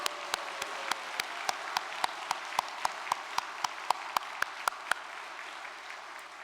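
A congregation at a church service claps in steady unison, sharp evenly spaced beats for about five seconds before stopping, with a faint room hum underneath.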